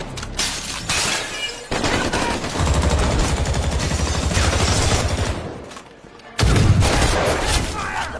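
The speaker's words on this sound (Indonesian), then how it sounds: "terus menggempur mereka dengan tembakan" Heavy gunfire with rapid bursts and cracking shots, dense and loud, briefly dropping off before another burst erupts.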